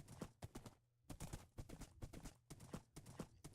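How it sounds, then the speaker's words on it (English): Horse hooves clip-clopping at a steady riding pace in the Minecraft video game, a quick run of close, crisp hoof clops with a brief pause partway through. "So let's just grab our horse"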